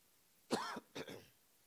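A single person coughs during a church sermon, giving two short, close, fairly loud bursts against a quiet room.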